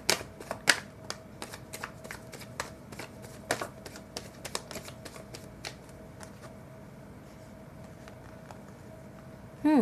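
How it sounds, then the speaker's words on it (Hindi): Tarot cards are shuffled by hand in quick, irregular bursts of crisp riffling snaps and flutters, close and clear, thinning out toward the end with a soft background hum. "पहले थोड़ा और शफल करते हैं।"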